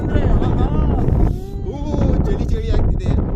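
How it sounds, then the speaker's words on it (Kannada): Cold wind whistles and buffets steadily across an open hilltop at Chaluvanarayanaswamy Betta, a loud rushing roar close on the microphone, with someone talking underneath. "ಸಿಳ್ಳೆ ಗಾಳಿ."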